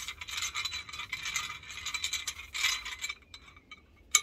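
A long threaded fitness bar is unscrewed, giving faint, close metallic scraping and ratcheting clicks in short bursts, ending with a sharp little tick.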